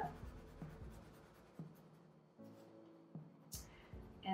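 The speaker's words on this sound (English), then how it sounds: "So I'm going to use colored pencil today" Colored pencil scratching across paper in quick short strokes, a run of soft rasping bursts with pauses between, close and fairly quiet with no talking.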